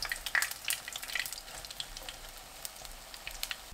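Sand lance fries in hot oil over medium heat, sizzling and crackling with sharp pops over a steady frying hiss, close and moderately loud.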